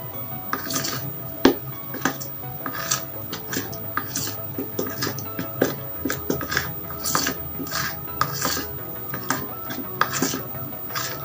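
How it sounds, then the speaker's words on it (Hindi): Homemade toothpaste slime mixture is stirred in a bowl, making a run of close clinks, scrapes and taps with an irregular rhythm, while a voice talks underneath at times. "अब इसे आपको अच्छे से मिक्स करना है एकदम"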